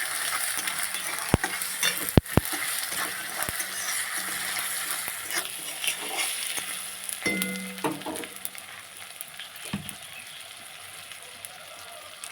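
Hilsa fish stir-fried with salt in a pan gives a soft steady sizzle, broken by frequent sharp scraping clicks and taps of a spatula stirring against the pan.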